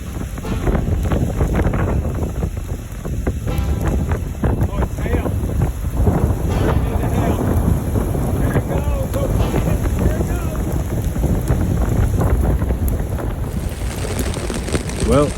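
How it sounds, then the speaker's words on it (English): Strong storm wind gusts in Wyoming's Wind River Range, a constant roaring rush buffeting the microphone with rough, broadband noise. "The wind had been blowing all day, and finally it turned into a storm."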